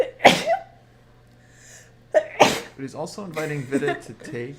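A single sharp sneeze bursts out near the start during chess commentary, then a second sneeze-like burst follows, with someone talking right after.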